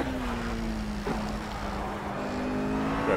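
A race car driving slowly around Laguna Seca in Project Cars, its engine holding a steady low drone with slight pitch drift, a faint bump midway, continuous and close.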